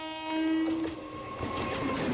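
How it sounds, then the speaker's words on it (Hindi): A train passes through a deserted station at Jogeshwari, its horn sounding in long tones over rumbling, clattering wheels, loud and close throughout. "गाड़ी जोगेश्वरी का एक सुनसान स्टेशन फलांग गई।"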